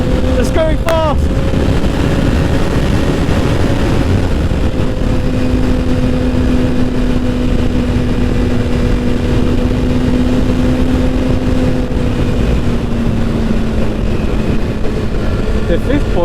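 Kawasaki ZX6R motorcycle engine droning steadily at speed, a loud continuous mechanical hum with a slowly falling pitch and heavy wind rush throughout, with no clear revving peaks.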